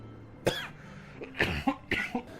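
A few dry coughs in quick succession, close and fairly quiet, with short pauses between them.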